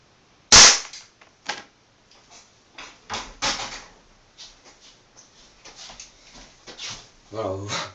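Taurus PT99 CO2 pistol fires a single loud, sharp crack near the start, followed by fainter clicks and handling noises, with someone speaking French briefly at the end.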